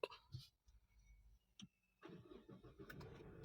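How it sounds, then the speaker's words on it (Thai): A few clicks and short cranking bursts, a brief silence, then a Mazda2 1.5 Skyactiv diesel engine catches after a fuel filter change and settles into a rough, steady running rumble. "ลองติดเครื่องดูนะครับ"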